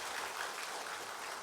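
Congregation at a church evangelism seminar applauding its department heads and officers, a steady, dense wash of clapping hands that holds evenly throughout with no voices over it.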